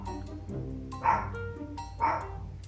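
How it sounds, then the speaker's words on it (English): A pet dog named Pumpkin gives two sharp barks about a second apart, close indoors over a low hum of background music. "And now my dog is barking."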